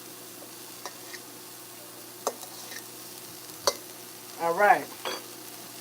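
Onions and peppers frying in a pan while being stirred, with a few scattered clicks of a utensil and a louder sizzling burst near the end; a voice speaks briefly.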